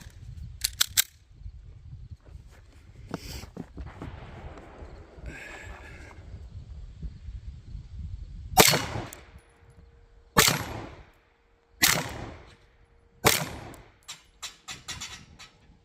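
A Sig P365 pistol fired at outdoor targets gives four sharp, loud, well-spaced shots in the second half, each ringing briefly, after quieter shuffling and a few softer taps at the start.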